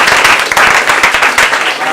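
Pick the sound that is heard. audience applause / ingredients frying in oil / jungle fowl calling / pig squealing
audience applause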